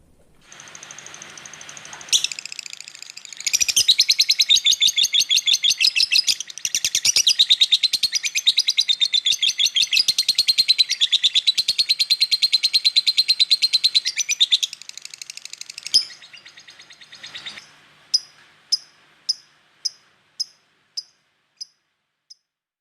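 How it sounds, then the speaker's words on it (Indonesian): A lovebird chirps rapidly in long, shrill trilling bursts, close and loud, ending with a series of separate sharp chirps spaced evenly apart. "Ini burung lovebird rawatan saya ya, yang kurang lebih selama 2 mingguan lah."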